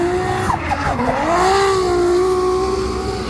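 Formula Drift cars skidding at WeatherTech Raceway Laguna Seca, a loud sustained tire squeal with a wavering pitch over engine roar, no voices.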